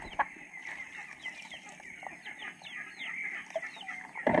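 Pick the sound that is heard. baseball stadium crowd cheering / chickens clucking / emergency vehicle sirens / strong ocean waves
chickens clucking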